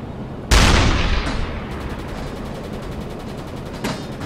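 Sustained gunfire from a submarine's deck gun shooting at a ship in the naval game Uboat: a loud blast opens the burst, then dense, rapid firing rolls on with a second sharp shot near the end.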